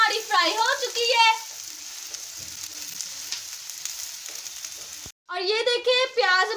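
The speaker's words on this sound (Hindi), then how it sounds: "और ये देखिए भिंडी हमारी फ्राई हो चुकी है" Okra (bhindi) frying in a pan for bhindi gosht, a dense continuous sizzle heard alone between stretches of someone talking at the start and end.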